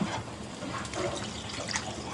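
Water pours steadily into a pot of sautéed potatoes for gravy nearby, a brief continuous splashing gurgle with no talking.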